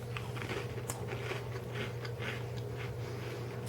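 Crisp crunching of someone biting and chewing a thin, brittle ginger snap cookie, close up, over a steady low hum.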